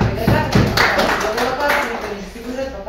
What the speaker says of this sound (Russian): Проводим аплодисменты